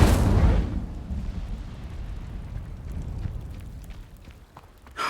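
A fiery Incendio spell blast from the Hogwarts Legacy video game erupts loud and close as a deep booming burst, then trails off into a long rumbling roar that fades over several seconds before another swell at the end.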